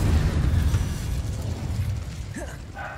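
Incendio fire spell cast in Hogwarts Legacy, a loud rumbling burst of flame with low booming energy that fades over about three seconds, ending with a few faint higher game effects.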